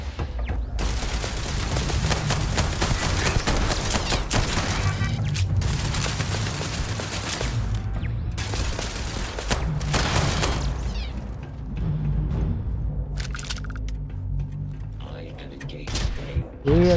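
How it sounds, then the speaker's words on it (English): Shotgun blasts and other gunfire in the Starfield video game, loud, dense repeated booming shots across most of the stretch, with a quieter lull near the end and a voice speaking over the action. "this shotgun is very strong too"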